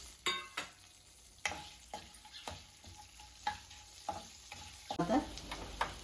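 Garlic, urad dal, mustard seeds, cumin, dried red chillies and curry leaves crackle and sizzle in hot oil for a gooseberry pickle tempering, with sharp pops and spoon stirs recurring over a quiet hiss.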